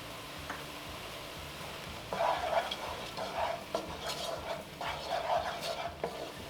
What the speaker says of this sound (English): So these have been sauteing a couple minutes.